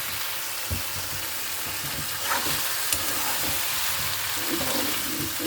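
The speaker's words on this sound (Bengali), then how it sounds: "মশলা দিয়ে নুডলস রান্না করতেছি।" Noodles with spices cook in a pan, producing a continuous close sizzle with occasional soft scrapes and knocks of stirring, with no one speaking.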